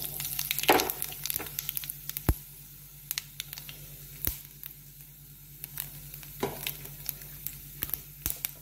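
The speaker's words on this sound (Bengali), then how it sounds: "তেল গরম হয়ে গেছে বন্ধুরা, আমি শুকনো লঙ্কা সরষে আর কালো জিরে ফোড়ন দিলাম" Dried red chilli, mustard seeds and nigella seeds hitting hot oil in a pan, crackling and sizzling close by, with sharp pops and spits scattered through the tempering.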